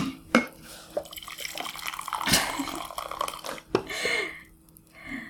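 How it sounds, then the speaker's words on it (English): Tea is poured, with liquid trickling and dripping in uneven bursts, some splashy gurgles and clinks close by, over a quiet background. "Let's just take a deep breath and pour some more tea."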